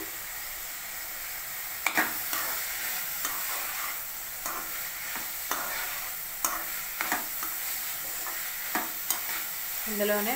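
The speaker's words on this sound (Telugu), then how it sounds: "అన్నీ కలిపి బాగా ఫ్రై చేసుకుందామండి." Mango pieces and spinach fry in a pan for a lentil curry, a steady close sizzle broken by repeated scrapes and clacks of a spoon as the mix is stirred, with a brief word of speech near the end.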